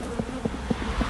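Honeybees buzz steadily inside an open hive with about seven frames of brood, a close, continuous drone punctuated by a few brief louder swells.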